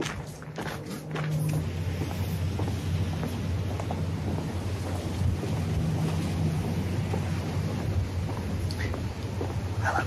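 Steady wind rushing through trees in a tropical park in Miami, a broad, continuous outdoor whoosh with no talking.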